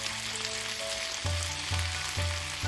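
Chicken and radish curry frying in a pan, a steady close sizzle with a few low thumping stirs toward the end, quiet and without talk.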